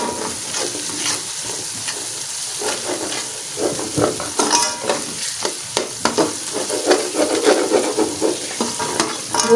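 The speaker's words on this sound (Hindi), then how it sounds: "इसको भी अच्छी तरह भून लेना है" Ginger garlic paste fries in a pan for a masala fish curry, a steady sizzle broken by repeated scraping stirs and occasional clinks, growing a little busier toward the end.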